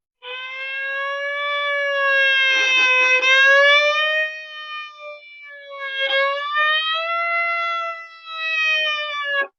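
Police car siren wailing loudly and steadily, its rising and falling tone rich with harmonics, close by and alone with no voices.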